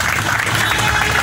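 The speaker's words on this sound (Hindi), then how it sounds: "मैं पहले तो आप सबसे रिक्वेस्ट करूंगा कि एक बार जोरदार तालियां हो जाएं कैप्टन मनोज कुमार पांडे जी के लिए" An audience at an Indian award ceremony applauds loudly and continuously, a dense, even wash of many hands clapping close by, with no pauses across the short stretch.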